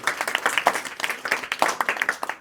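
A small group in a math class claps for a student's good answer, giving a few seconds of uneven, close handclaps with distinct individual slaps in irregular bursts.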